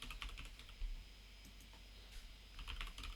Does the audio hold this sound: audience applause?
no